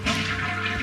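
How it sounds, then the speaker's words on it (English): Household toilet with a newly replaced Fluidmaster flush valve flushing, a loud close rush and gurgle of water that stays heavy across the short moment, with no talk. "Let's give it a final flush."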